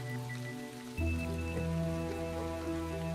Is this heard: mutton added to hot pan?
no